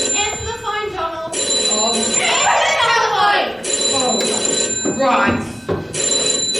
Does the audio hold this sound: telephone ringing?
yes